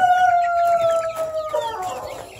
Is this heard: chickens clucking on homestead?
yes